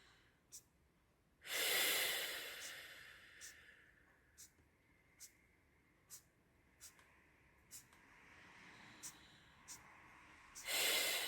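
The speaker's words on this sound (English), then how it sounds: "Just consciously do a few deep breaths." Two slow, deep breaths during a meditative drawing session, one early and one at the very end. Both are close and full, with faint, regular small taps between them.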